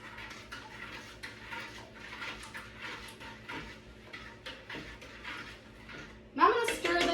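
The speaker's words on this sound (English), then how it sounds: "I'm gonna stir this occasionally so my sugar can dissolve" Metal spoon stirring sugar syrup in a pan on the stove, soft repeated scrapes and clinks at a steady pace, with a louder clatter near the end.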